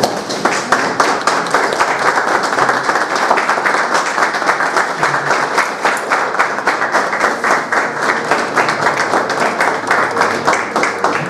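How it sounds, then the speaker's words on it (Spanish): Warm, loud applause from an assembled crowd greets ceremonial flags at an anniversary ceremony for Laguna Blanca National Park, a dense, steady clatter of many hands that continues evenly from start to finish. "recibimos con un cálido aplauso las banderas de ceremonia"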